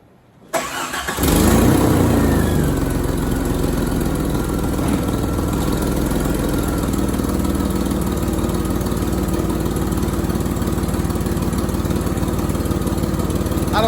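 A car's engine cranks and catches after a brief near-silence, then settles into a loud, steady idle that holds unbroken for the rest of the stretch.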